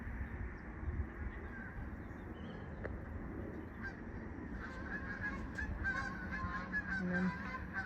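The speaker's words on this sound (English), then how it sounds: "And then geese again." Geese honk repeatedly in loose bursts over steady outdoor rumble, becoming a busier chorus of calls in the second half.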